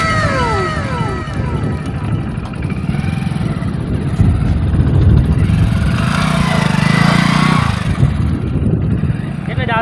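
A motorcycle engine drones closer and grows steadily louder over several seconds, running under casual conversation and background chatter on the street.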